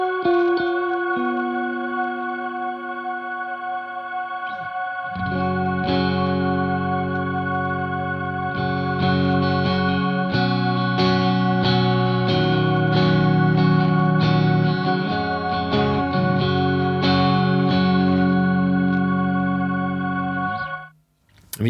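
Electric guitar played through a Strymon NightSky reverb pedal, ringing out in sustained, shimmering chords with a long, washed-out wet tail, steady and fairly loud throughout, then cutting off abruptly at the end.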